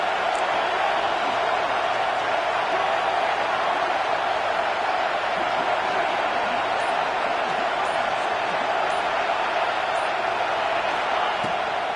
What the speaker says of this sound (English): Here comes this home crowd